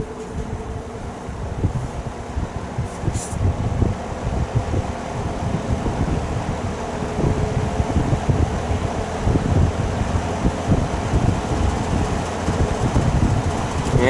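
Vintage GE box fan running on medium speed, a steady moderate whoosh of moving air with a low motor hum, continuous throughout and without any talking.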